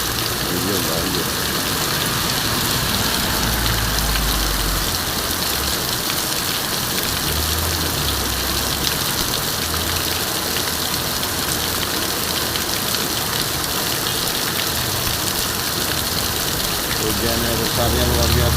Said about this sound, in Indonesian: Hujannya besarnya luar biasa.